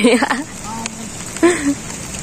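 Steady rain hisses across a mountain trail in an unbroken wash of sound, with voices talking over it nearby.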